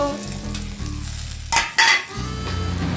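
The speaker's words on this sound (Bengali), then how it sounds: "রসুন জাস্ট একটু নাড়াচাড়া করে নিলাম" Garlic and turmeric powder stirred in hot oil give a loud, close, continuous sizzle, broken by a couple of brief bursts of scraping and spitting halfway through.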